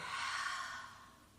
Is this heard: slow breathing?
yes